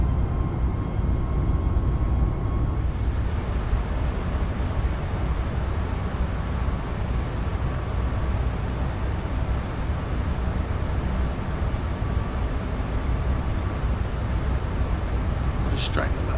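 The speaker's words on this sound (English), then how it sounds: "Thrust is building up and we're climbing again." Jet engines on a Boeing 737 MAX 8 in a flight simulator push steady climb thrust, a loud, continuous low roar with a faint whine that holds evenly throughout.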